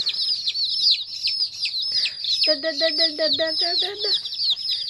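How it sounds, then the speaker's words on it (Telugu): High, rapid peeping from a cluster of chicks runs throughout, joined midway by a short burst of lower, rhythmic clucking. "చూసారా చిట్టి చిట్టి కోడి పిల్లలు"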